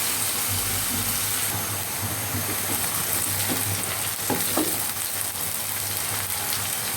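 Onions sizzle in a pan with cardamom, cinnamon and bay leaves while cooking beef liver, a dense, steady frying hiss that runs throughout, with a few soft stirring scrapes partway through.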